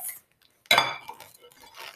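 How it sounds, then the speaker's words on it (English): A folded microwave popcorn paper bag laid on its side on a microwave-safe plate, giving one sudden close clatter of the plate followed by a brief rustle. "Put the bag on its side on a microwave safe plate like this."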